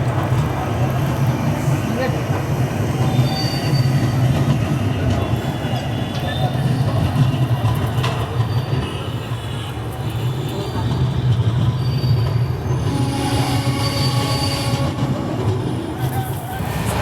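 Capital Express train pulling out of Alipurduar Junction: a steady, loud rumble of wheels and carriage with rhythmic rail clatter and occasional squeal, heard from inside the coach with faint voices.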